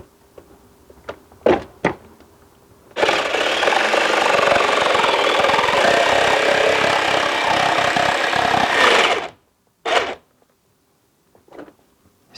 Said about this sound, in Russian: Делаем надрез в сетке, пилим лобзиком.